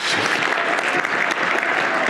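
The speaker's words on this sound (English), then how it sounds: "Give them a round of applause." Audience applause for guests joining the presenters on stage at a SAINTCON 2023 security conference talk, a dense, steady wash of many hands clapping throughout, loud and continuous.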